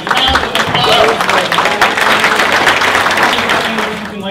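Applause and clapping from an audience at a real estate investor conference expo, a dense wash of hands fairly close, with voices mixed in.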